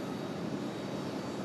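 A JetBlue jet in I Heart JetBlue livery takes off from runway 5 left at Raleigh-Durham International, giving a steady, broad engine roar that holds even and continuous throughout.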